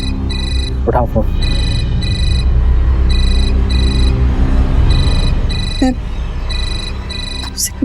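Repeated bursts of an electronic phone ringtone sound indoors at steady intervals, with a few brief sharp noises and a low background hum beneath the ringing.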